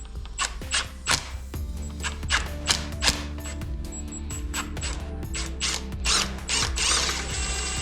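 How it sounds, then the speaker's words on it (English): A drill works on a Mazda NB Miata six-speed transmission during disassembly, running in short repeated bursts with ratcheting clicks, close and fairly loud. "maybe I just use the drill on this"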